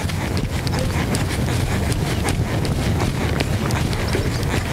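A horse trots at a steady, moderate working pace during a riding lesson. The hoofbeats form a quick, regular rhythm that is partly masked by constant wind and outdoor noise, with no voice on top.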